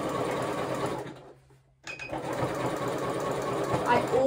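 A home sewing machine runs a zigzag stitch over elastic on a pair of Pietra shorts, whirring steadily for about a second, pausing, then starting again in a longer continuous burst, close and clear.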